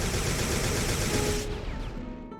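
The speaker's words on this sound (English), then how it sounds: "Then you have the enhanced rapid fire pulse gun, which shoots pink lasers and deals more damage at the cost of having to find ammo for it." Enhanced rapid fire pulse gun in Recoil firing pink lasers, a dense loud continuous burst of rapid shots that cuts off and trails into a fading echo of descending zaps.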